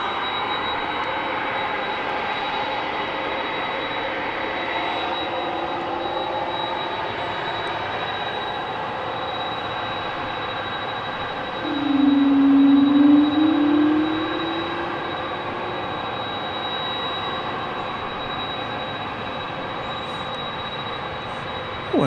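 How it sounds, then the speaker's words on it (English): A Spirit Airlines Airbus A320neo arriving from Phoenix at DFW Airport produces a steady, distant broadband jet roar, with a brief louder humming swell near the middle and no talking. "see Spirit Airlines Flight 2903 arriving from Phoenix, Arizona. Gonna be an Airbus A320neo."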